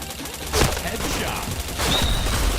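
Video game gunfire with a couple of loud, sharp shot bursts over continuous game background noise, close and punchy.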